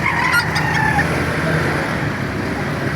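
Chickens at a poultry market in Baliuag, with clucks and rooster calls blending into a constant crowd murmur and market bustle, loud and continuous.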